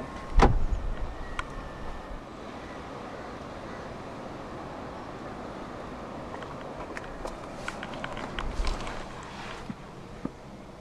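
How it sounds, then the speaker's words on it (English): Power side mirrors on a 2019 BMW X2 M35i fold in with a quiet, steady electric motor whir lasting several seconds, a few faint clicks and a soft thump near the start. "Long press the ribbed area to fold the side mirrors in."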